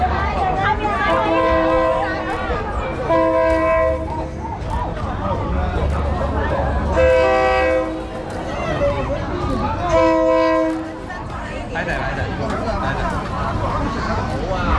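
A train pulls into a crowded Thai railway market, sounding several loud, drawn-out horn blasts over a rumbling approach, amid a busy murmur of waiting people and someone talking nearby.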